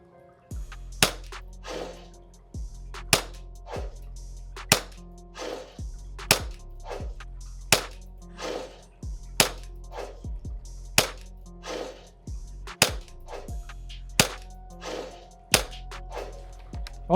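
An airsoft Glock Gen 5 pistol fires a steady series of sharp snapping shots at a target, about one every second or so, each crack followed by a brief mechanical clack, near and distinct with no talk.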